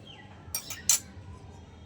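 A spoon stirs coconut sauce thickened with sugar and cornflour in a small kitchen, giving three quick, faint metallic clinks against the pot.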